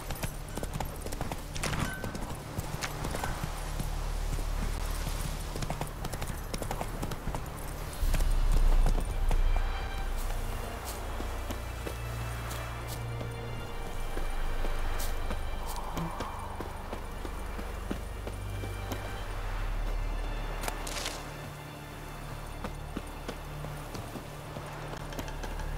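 Horse hooves clip-clop steadily over a continuous background of movement and noise, with occasional louder bumps and faint voices in the mix.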